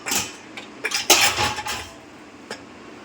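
Clattering of metal dishes and a pressure cooker lid being handled and set into a Bosch dishwasher, a burst of close, bright clanks and clinks in quick succession, then a single lighter clink after a pause.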